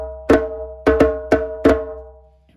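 Four sharp hand-drum slaps ring out in an uneven rhythm, each a close, loud strike with a fast decay and a faint doubled attack from the right hand landing just ahead of the left; no talking.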